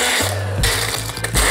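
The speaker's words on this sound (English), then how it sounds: "I'm just gonna run it through a blender for a couple seconds to powder that back up" A blender runs for a short burst to powder lumpy fruit sugar, a loud, close motor whir with a grinding rattle that shifts in pitch as the contents tumble.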